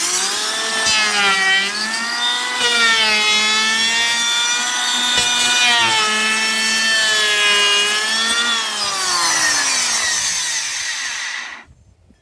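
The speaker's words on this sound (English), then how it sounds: "we took our planer and we shaved down the edge of our pressure treated plywood" A power planer shaves the edge of pressure-treated plywood for a boat floor repair, giving a loud, continuous high whine with wavering pitch that holds steady and then cuts off sharply at the end.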